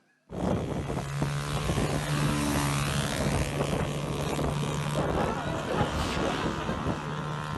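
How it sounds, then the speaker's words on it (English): A wheelie bin fitted with a motorbike engine speeds past, its engine a loud, steady roar with a sustained droning tone and heavy wind buffeting throughout, starting abruptly and staying near. "It's powered by a motorbike engine and can reach speeds of 45 miles an hour"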